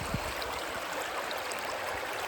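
Water running steadily into a Vevor gold prospecting sluice at Tuena, a continuous broadband rushing and trickling wash heard close and alone, with no voices.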